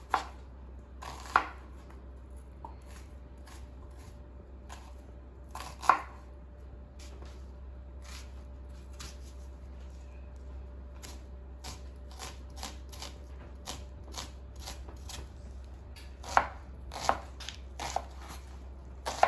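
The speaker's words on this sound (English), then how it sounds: "So I'm just gonna chop the onion to little pieces." An onion chopped into little pieces on a cutting board, with sparse, irregular knife taps that come in quick bursts over a low steady background hum, close and clear.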